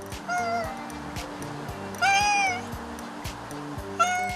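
A cat meows three times, high and drawn out, close by, outdoors among stray cats, with a faint low murmur of other sounds in the background.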